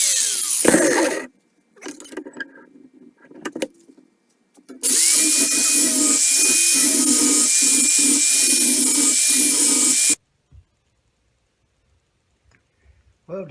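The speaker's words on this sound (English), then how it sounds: "I've decided to use this die grinder. Again, it's a Harbor Freight Central Pneumatic, part number 36572" A Harbor Freight Central Pneumatic die grinder, used while building air deflectors for a Gravely walk-behind tractor, gives several short bursts and then a sustained high whine of about five seconds. It stops abruptly before quiet.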